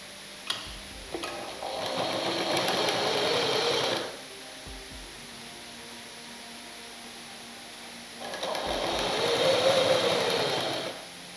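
Sewing machine stitching katori blouse fabric, two steady runs of rapid mechanical whirring separated by a quiet pause, close and moderately loud with no talking.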